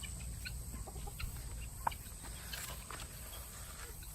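Chickens clucking faintly among turkeys in a permaculture food forest, scattered soft calls over a steady low outdoor rumble.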